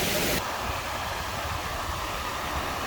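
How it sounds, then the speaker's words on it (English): Algar waterfalls near Benidorm, Spain: a steady, close roar of falling water fills the whole stretch, with a brighter burst of spray noise in the first moment before settling into a constant rush. "come and do the waterfalls"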